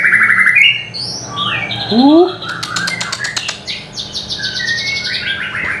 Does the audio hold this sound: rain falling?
no